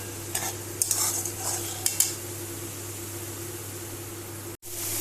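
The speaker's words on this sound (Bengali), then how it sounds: "এই যে সোয়াবিনটা আমার শুকনো শুকনো হয়ে এসছে, মানে হয়ে গেছে কষানো।" Soya chunks stirred and sautéed in a pan, a spoon scraping and clinking against the metal in a few quick strokes over a steady low sizzle and background hum, close and moderately loud.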